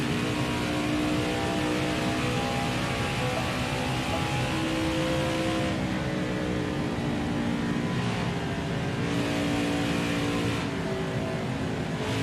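NASCAR stock car engines roar in the NASCAR Heat 5 video game during a race at Homestead-Miami, a loud continuous high-revving drone with small shifts in pitch as cars run near the end of the race.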